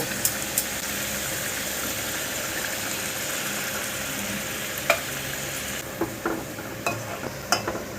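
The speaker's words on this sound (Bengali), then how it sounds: "এবার আমি একটা বাটিতে তিন থেকে চার চামচ টক দই একটু জল দিয়ে ফেটিয়ে রেখেছিলাম এটা এবার ঢেলে দেব" Whisked sour yogurt thinned with water poured into a hot pan of potol curry, a low even sizzle and simmer with a few sharp utensil clicks toward the end, close and unaccompanied by speech.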